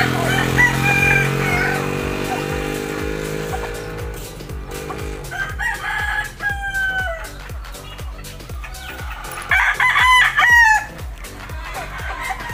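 Several roosters crow in turns over a steady background hum, with repeated soft clucks and rustling between the calls.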